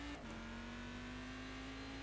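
A Cadillac CTS-V race car engine drones at a steady pitch in the iRacing simulator at the Nürburgring Nordschleife, a constant sustained tone with a brief shift at the start.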